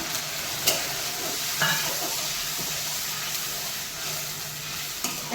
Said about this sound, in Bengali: এই নারকল দুধ বাটা যেটা দুধ বার করা সেই দুধটা ঢেলে দেবো